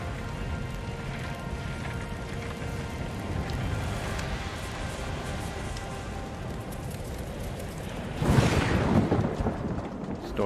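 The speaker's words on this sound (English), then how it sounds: "Storm is intensifying." A video game thunderstorm: steady, dense rain hiss with low rumbling throughout, then a louder crack of thunder near the end, nobody speaking.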